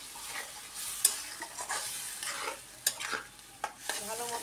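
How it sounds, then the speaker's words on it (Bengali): Spice paste is stir-fried in a pan, with a soft continuous sizzle broken by repeated scraping stirs and sharp spoon taps against the pan, close and fairly quiet. "এবার ভালো করে কষিয়ে ডিম আলুগুলো দিয়ে দেবো।"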